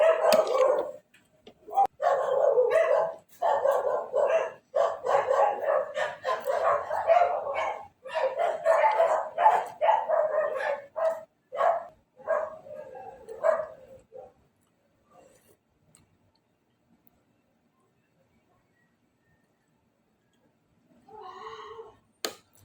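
Dogs bark repeatedly and excitedly at close range for several seconds, then fall quiet, with a brief final burst of barking near the end.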